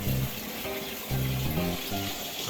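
Water from a pump flows into the net cups of a homemade RDWC hydroponic tray system, a steady close trickle and splash running throughout.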